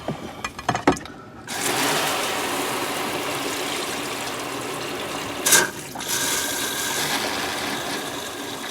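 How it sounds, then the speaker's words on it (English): Hot water runs steadily from a garage sink faucet while an RV is winterized, a continuous close rushing hiss that starts after a few brief knocks and carries on alone, with one short clunk partway through. "I'm going to do my garage sink. So, hot on."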